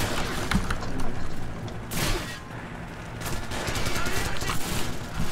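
Scorpion submachine gun fired in a video game in rapid, dense bursts with mechanical clatter, loud and close, with a short lull mid-burst.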